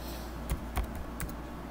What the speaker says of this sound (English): Just going to be typing in test over here.